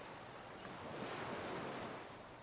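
Ocean surf washes in a soft, continuous hiss with wind noise over the microphone, a gentle swell rising and falling, faint and distant with no voices.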